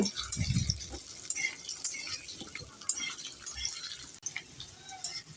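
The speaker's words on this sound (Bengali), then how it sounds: "এবার আমি তেলের মধ্যে আলুটাকে দিয়ে দেব এবার নেড়ে চেড়ে আলুটাকে আমি একটু লাল করে ভেজে নেব" Potato fries in hot oil with a soft, steady crackle and sizzle, punctuated by occasional taps and clinks of stirring, close but fairly quiet.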